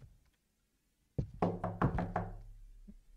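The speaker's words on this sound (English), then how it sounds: "Who's knocking at my window?" Knocking on a window in a horror video game: a run of about five firm, close knocks in quick succession after a silent pause, followed by a faint tap.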